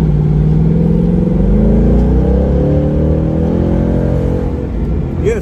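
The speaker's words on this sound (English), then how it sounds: "That explains why them Mustang downshifts be so loud and so crazy." A 2019 Ford Mustang GT Premium V8 convertible, top down, revs loudly as it downshifts, the engine note rising and falling through gear changes, heard from inside the car with wind noise.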